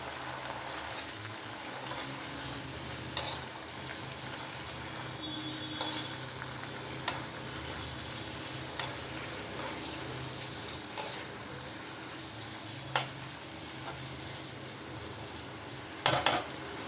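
Broad beans (chikudikaya) frying in a pan with turmeric and salt, stirred steadily under a continuous sizzle, with sharp scraping clicks of the spoon against the pan at intervals, close and moderately quiet, no talking.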